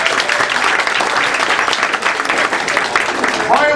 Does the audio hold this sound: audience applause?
yes